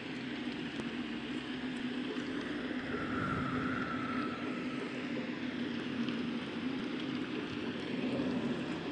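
Steady rain patters on a car during a ride, a dense, even hiss with a low road rumble beneath, continuous and close throughout with no voices.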